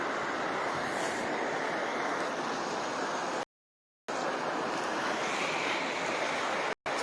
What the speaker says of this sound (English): being on these banks of this sacred river